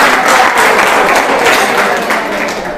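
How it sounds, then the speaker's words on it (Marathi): An audience at a career-academy quiz session applauds a correct answer, giving a steady, dense wash of clapping that stays loud and close for nearly three seconds and eases off slightly at the end. "जोरदार टाळ्या होऊ द्या."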